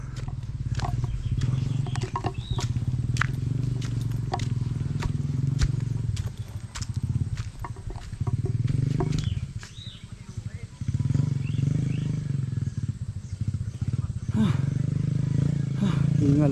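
A borrowed motorcycle with a weak-pulling engine revs in steady loud low surges, easing off briefly around the middle before picking up again, with scattered clicks and movement noise over it.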